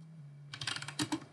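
Quick keystrokes rattle on a computer keyboard, close up, in a short burst of a dozen or so taps after a moment of quiet hum.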